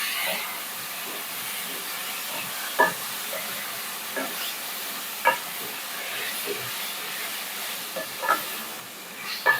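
Frozen beans fry and sizzle in oil with coriander powder and turmeric, a steady close hiss broken by occasional scrapes and clinks of a spatula stirring the pan.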